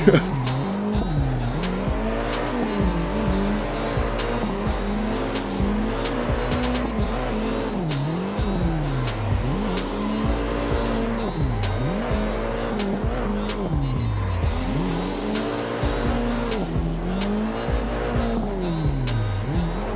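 Tire squeal from drifting cars in the Assetto Corsa racing sim, loud and continuous, with engines revving up and down in repeated sweeps as the cars slide through tandem drifts.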